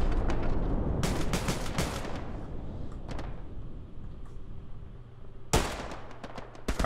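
Gunfire in the Hell Let Loose war game: bursts of rapid rifle and machine-gun shots crackle in the first half, a lull follows, then a sharp loud volley near the end, with no voices.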